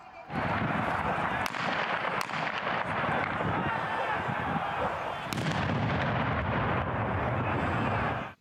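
Loud, continuous crackling bursts and sharp bangs of gunshots fired into the air and stun grenades fill the air in occupied Slavutych, with a few especially strong blasts standing out amid a dense, rumbling din.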